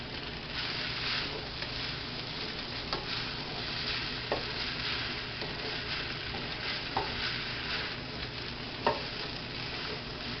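Shrimp and noodles stir-fry in a hot pan with a steady, dense sizzle that is broken by an occasional brief crackle or stirring clatter. The frying stays close and continuous, and no one speaks.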